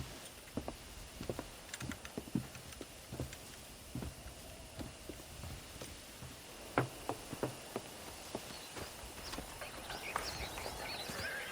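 Horse hooves clip-clop on ground in the Red Dead Redemption video game, a steady rhythmic series of distinct clops, moderately near, with ambient outdoor noise and no talking.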